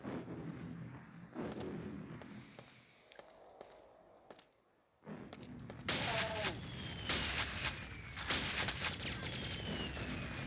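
Grenade explosions and gunfire in the Quake 2 video game, with repeated booming blasts and rapid shots, loud and dense in the second half after a quieter stretch.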